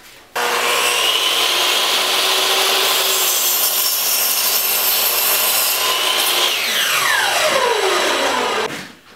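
2x4 lumber being cut by hand into cross sections for a snowboard box: loud, close, continuous sawing strokes run for most of the clip, ending as the cut finishes.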